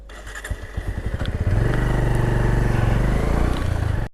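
A bike taxi motorcycle pulls away and rides through an industrial area, its engine rising from low putters into a loud, steady close-up drone for several seconds.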